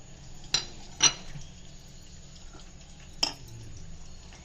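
A few sharp metallic clinks and taps of a spoon against a bowl while spices are stirred into a mangochi dal mixture, with faint soft mixing in between and long quiet gaps.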